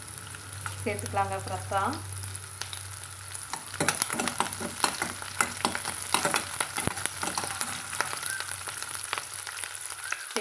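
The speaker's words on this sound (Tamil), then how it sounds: "கொஞ்சமாக லைட்டாக வதக்கி விட்டுக்கலாங்க" Ingredients such as curry leaves lightly sautéed in a pan for a mushroom pepper chukka, a soft sizzle under frequent clinks and scrapes of stirring, with a brief voice speaking at the start.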